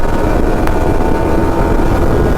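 Constant, loud engine drone from a Yamaha R15 V4 motorcycle under acceleration, heavy low rumble mixed with wind buffeting on the microphone, steady and unbroken throughout with no speech.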